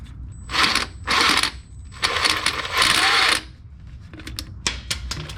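A wrench ratchets out 1/2 inch bolts from a Dodge Ram 1500 motor mount, several loud bursts of rapid clicking separated by short pauses, then scattered lighter taps and clinks.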